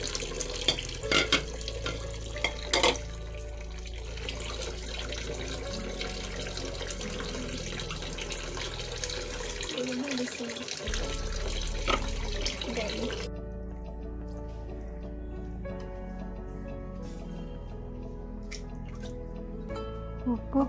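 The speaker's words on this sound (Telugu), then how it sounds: "మళ్ళీ ఇంకొకసారి వాటర్లో వాష్ చేసుకోవాలి." Korameenu fish is rinsed under a running tap, water splashing and drumming steadily into a sink before the flow thins to drips and lighter trickling near the end.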